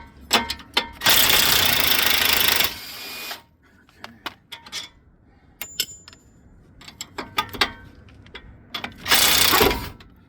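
A power tool removes two strut bolts on a 2012 Nissan sedan with a broken strut, loud close bursts of rattling impact-gun hammering, one long run and a shorter one later, separated by quieter clinks and clatter.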